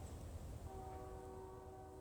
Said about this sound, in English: Ooh, I hear a choo-choo train. Y'all hear that?